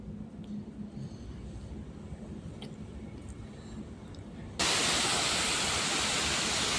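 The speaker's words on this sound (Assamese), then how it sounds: "পানীৰ আৱাজটো শুনকচোন মোৰ পানীৰ আৱাজটো বহুত ভাল লাগে" Rushing water at a waterfall on a family picnic at Chapanala, a steady broadband roar that grows suddenly much louder and brighter partway through, with no voices.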